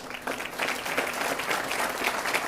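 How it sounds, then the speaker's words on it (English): Audience applause at an elementary school ribbon cutting ceremony, a steady round of clapping from a crowd lasting a couple of seconds, fairly close and without speech over it. "give him a nice round of applause"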